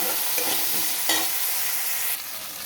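Cumin powder and ginger stirred in a hot frying pan, a continuous close sizzle with scraping stirring strokes, no talk.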